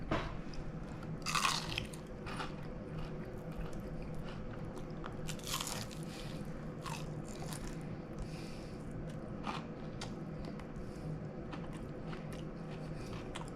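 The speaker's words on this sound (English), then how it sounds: "the time has come to try these Perilla fried flowers" Close, crisp biting and crunching on fried perilla flowers, with an early burst of loud crunches followed by steady chewing and scattered sharper crunches, all without any talking.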